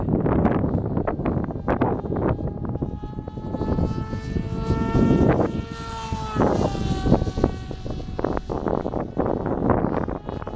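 A Phantom FX-61 FPV flying-wing model plane flying at full speed, its propeller whine rising and falling in pitch against heavy wind buffeting on the microphone.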